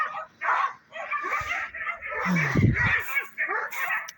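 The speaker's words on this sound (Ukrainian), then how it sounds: "Ну, знов ці сусідські собаки, просто якийсь жах." Neighbours' dogs bark in rural southern Odesa region, a cluster of close yips and barks in the middle while someone talks over them.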